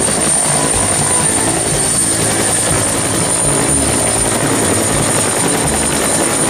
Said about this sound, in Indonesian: ini helikopter